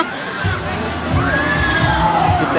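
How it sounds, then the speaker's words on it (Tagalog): A crowd of people shouting and cheering with high, excited voices, continuous and fairly loud throughout, with rising whoops standing out. "Halos Pilipino yung sumisigaw eh."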